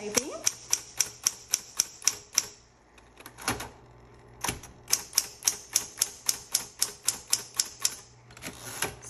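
Keys of a repainted 1960s Smith Corona Coronet typewriter strike in quick, crisp bursts, with a short pause in the middle, close and fairly quiet.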